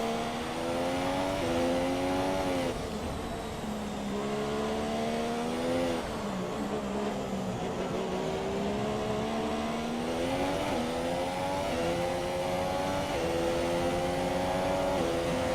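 Formula 1 cars in the F1 2017 video game, racing the Spanish circuit with two Renaults running close together, a loud continuous high-revving engine whine rising through gearshifts and dipping into corners, steady and up close.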